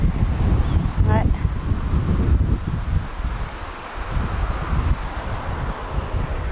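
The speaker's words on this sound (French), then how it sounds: "heureusement qu'il y a du vent" Wind gusts along the Seine riverbank, a loud rushing buffet against the microphone that swells and eases throughout, with a brief voice near the start.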